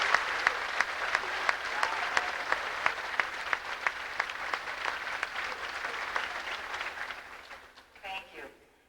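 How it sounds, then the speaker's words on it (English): A crowd at a school awards ceremony applauds outstanding students with sustained, even clapping over which a few sharp individual claps stand out, tapering off near the end as a voice briefly speaks. "Please join me in applauding these outstanding students."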